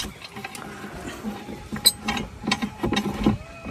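Metal parts of a hand-crank vermicelli press clink and scrape as its head is fitted on, giving close clattering knocks and grinding under a voice speaking.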